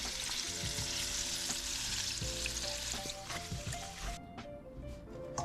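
Honey barbecue coated shrimp fry steadily in hot oil with a dense, continuous sizzle and faint bubbling, loud and close throughout, easing slightly toward the end.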